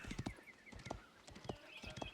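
A horse's hooves clip-clop at a walking pace in a video game, steady evenly spaced hoof strikes, moderately faint and close, with no talk over them.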